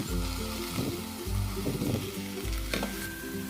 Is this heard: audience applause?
no